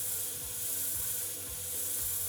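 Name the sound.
sanding a wooden box on a lathe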